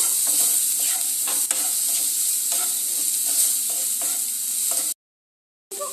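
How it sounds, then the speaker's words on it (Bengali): A spoon stirs minced chicken keema in a hot pan with salt and turmeric, a steady loud sizzle broken by scraping strokes, the frying cutting off abruptly near the end before a brief return. "দিয়ে দেবো 1/2 চামচ লবণ, 1 চামচ হলুদ গুঁড়ো, দিয়ে আবারও একটু নাড়াচাড়া দিয়ে নেব"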